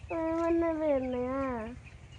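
A single bird at a poultry farm with young chicks calls out once with a drawn, wavering tone that lasts about a second and a half, loud and close against a low background murmur.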